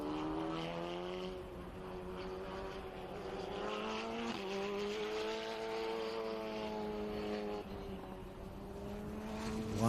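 Vintage race cars roar through the chicane at turns 5 and 6 of Indianapolis Motor Speedway, engines howling with steady rising and falling pitch as several cars pass close and loud, with no talk throughout.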